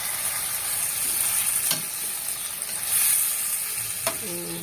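Vegetables such as carrot and potato frying in a pan for menudo, a steady hissing sizzle that fills the whole stretch, with a couple of faint utensil clicks and no talk.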